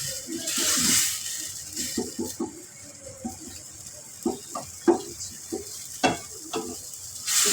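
Masala with tomatoes cooking in a pan on a low flame, a soft steady sizzle with intermittent scraping and stirring clinks from a spoon, close and gentle with no talk over it.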